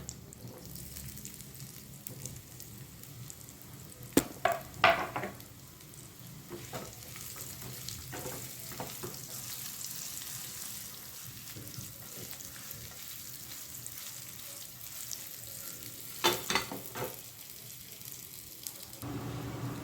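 Spinach vadi slices shallow frying in oil with sesame seeds and hing, giving a steady close sizzle with scattered pops and stirring clatter throughout, a few sharper spatter bursts near the start and end.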